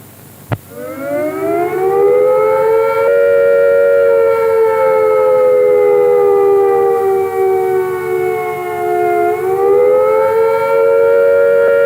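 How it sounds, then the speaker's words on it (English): Civil defence air attack warning siren winds up after a sharp click into a loud, sustained wailing tone that slowly dips and rises again, heard alone and close without any talking. "If attack is imminent, you will hear the attack sound like this."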